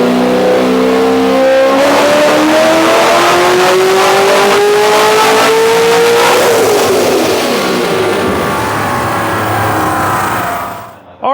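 An LS-engined Corvette revs hard on a dyno, its loud engine climbing steadily in pitch through a long full-throttle pull before backing off and winding down near the end.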